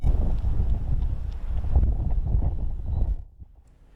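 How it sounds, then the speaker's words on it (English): Strong, damaging wind gusts near Big Timber, Montana, roaring loudly and buffeting the microphone for about three seconds before dropping away to near quiet. "And those winds even higher and more damaging in big timber."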